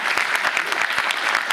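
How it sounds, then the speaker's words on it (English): A comic con audience applauds, a dense burst of many hands clapping close and loud, steady for a couple of seconds with no voices on top. "Excellent round of applause."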